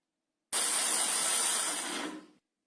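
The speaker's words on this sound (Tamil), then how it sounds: "மிக்ஸியில கொஞ்சம் கொரகொரப்பா அரைச்சி எடுத்துக்கலாம்" A mixer grinder coarsely grinds torn pieces of chapati in its jar, a loud steady whirring roar that runs for about two seconds and then cuts off, heard alone.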